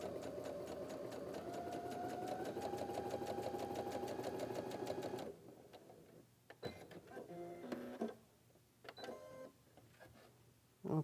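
A sewing machine runs steadily stitching a chain quilt block seam, a continuous mechanical whir that stops halfway, followed by quieter handling clicks and rustles.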